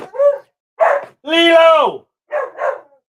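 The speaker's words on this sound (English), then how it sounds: "you shut that dog up, please" A dog barks in several short, loud bursts indoors while a person speaks briefly between them.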